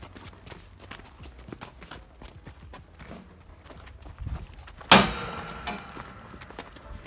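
Horse hooves clopping on a trailer floor and ramp as barrel racing horses are unloaded: scattered, uneven hoof knocks, then one sharp loud bang followed by a brief rumbling rattle.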